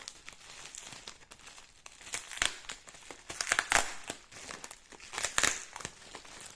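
Sticky tape being pulled and peeled off a package in crackling, ripping bursts, close by, with uneven pauses between pulls.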